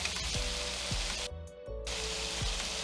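Shrimp fry in a hot wok for a stir fry, a steady close sizzle with crackling spatter that briefly drops away midway before returning, with no talking.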